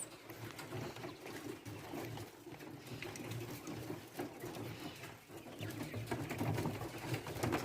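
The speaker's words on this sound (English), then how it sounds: "Have another set of quails." Quails in a room make soft cooing and chirping calls, faint and repeated over a low background hum, with a few clicks scattered through.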